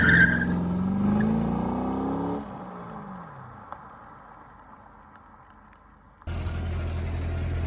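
A Chevrolet Corvette C5 driven hard revs loudly, climbing through gears, then fades into the distance before a sudden burst of engine noise returns near the end.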